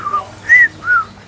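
Brazilian parrots on Porto Santo give three clear whistles, a short note followed by two longer rising-and-falling ones, loud and close in a quiet outdoor setting.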